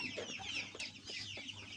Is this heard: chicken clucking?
yes